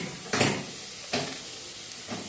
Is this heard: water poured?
no